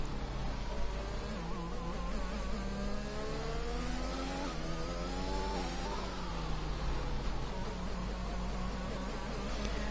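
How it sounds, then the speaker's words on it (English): A McLaren F3 race car in a racing video game set at the Hungarian Grand Prix, its engine whining steadily and loudly through the final corner with shifting pitch, no talk over it. "Through the final corner, the McLaren comes."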